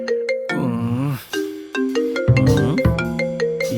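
A melodic mobile phone ringtone plays for an incoming call, a loud, clear electronic tune of stepped notes with no talking over it.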